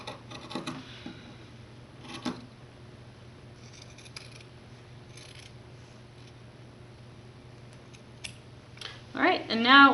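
Scissors cut through a T-shirt for a DIY bag, making a few close, crisp snips spread over a quiet room, and a voice starts speaking at the very end.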